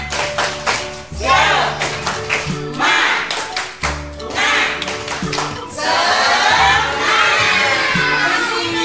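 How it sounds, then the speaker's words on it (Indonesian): Group of children doing a spirited clapping chant with a teacher, rhythmic bursts of claps alternating with lively shouted chanting, busy and close. "yuk kita main yang tepuk semangat lomba ya. Tepuk semangat."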